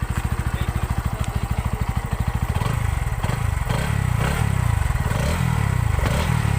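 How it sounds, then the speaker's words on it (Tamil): A 2020 Bajaj Pulser NS160 BS6 motorcycle engine cranks with a fast rhythmic chug, then fires and settles into a steady, close, throbbing idle with light mechanical clatter. "பைக்கை ஸ்டார்ட் பண்ணி பார்க்கலாங்க"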